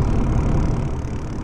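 In Proton Bus Simulator, the diesel engine of a Mercedes-Benz Citaro Facelift G bus idles with a loud, even, low rumble close by.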